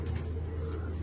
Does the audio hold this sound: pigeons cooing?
yes